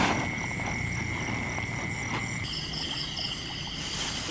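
Frogs croak in a rice field at night, a dense overlapping chorus of repeated calls with insects trilling in the background, steady and moderately distant.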